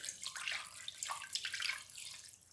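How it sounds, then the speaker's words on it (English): Water is poured over raw fish pieces in a pan before poaching, a soft, continuous splashing trickle, quiet and close, with no talk. "I'm just going to pour some water over that."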